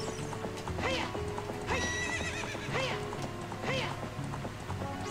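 Rhythmic clip-clop of hooves with repeated loud neighs and whinnies from a horse in The Legend of Zelda: Ocarina of Time, close and clear, accompanied by light game background music.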